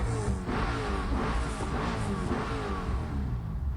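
A BMW in the video game Need for Speed Most Wanted revs hard, its engine a steady, loud, continuous roar with no voices over it.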